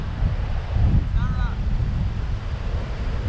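Strong wind buffets the microphone in a steady low roar at Miami Beach, with surf rumbling underneath and a faint voice briefly audible midway.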